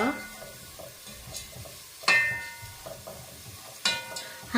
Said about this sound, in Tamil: கொஞ்சம் எண்ணெய் விடாமல் வெறும் சட்டியிலேயே ஒருக்கா வறுத்தெடுத்து கொள்ளுங்க